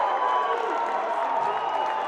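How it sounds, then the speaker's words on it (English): High school basketball fans cheer at a CIF NorCal Division IV quarterfinal between Liberty Ranch and Riordan, a sustained roaring crowd filling the gym, loud and continuous for a couple of seconds. "it gets a big cheer from their fans"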